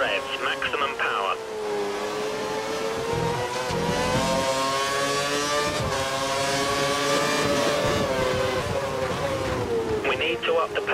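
A Formula 1 race car runs at full revs on wet-weather tires during the Malaysia race in the F1 2013 video game. Its high-pitched engine drones loud and continuous, with slight rises and dips in pitch throughout.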